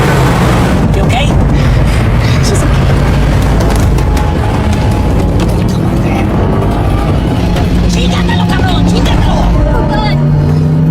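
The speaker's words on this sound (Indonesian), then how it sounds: "si tangan kanan langsung mengejar mobil Sean hingga terjadi aksi kejar-kejaran" A film car chase roars loudly and nonstop with engines, impacts and booming hits, dense and close, with voices briefly heard amid the chaos.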